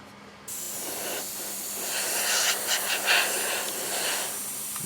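A Gaahleri GHAD 39 airbrush sprays with a steady, bright hiss. It starts abruptly and holds continuously at close range, with slight swells as the trigger is worked.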